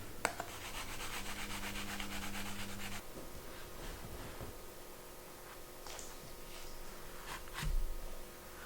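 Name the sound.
rubbing soaped leather edge with a piece of oak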